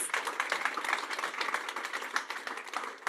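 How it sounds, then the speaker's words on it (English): Audience at a summit in New York City applauds the speakers, a dense, steady patter of many hands clapping close by, sustained for a few seconds at even loudness. "Please give them a big round of applause."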